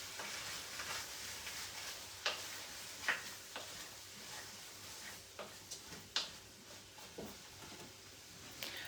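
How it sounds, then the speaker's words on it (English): A spoon stirs curry powder into pumpkin and lentil soup in a pot, making faint, sparse scrapes and soft clinks over a quiet background with no talking. "Just whack that in there and give it a bit of a stir"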